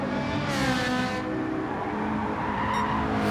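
A McLaren race car on cold medium tires slides in a racing video game, its engine droning steadily with a squealing, skidding scrub layered over it, loud and close throughout.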